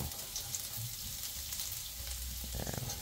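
Chopped garlic sizzling in a generous amount of hot cooking oil, a steady bright crackle and hiss that continues without pause and stands alone with no voices.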